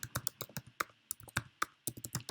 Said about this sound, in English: I'll just type